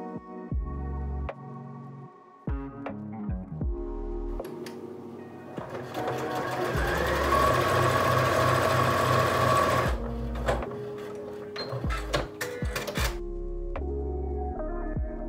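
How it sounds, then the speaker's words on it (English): A sewing machine stitches quilt squares together right sides facing, running in short stop-start bursts and then in a sustained whirring stretch with a rapid needle throb before further brief bursts, close and clear. "And then sew that third square to the second right sides together."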